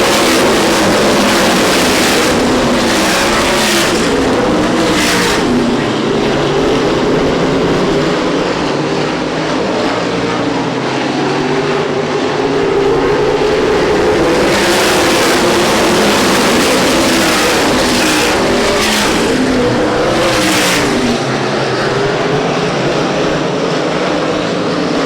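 USAC National Sprint Cars race side by side at Winchester Speedway during the 2010 Rich Vogler Classic. A loud, continuous engine roar swells and fades as the cars pass, with no voices heard.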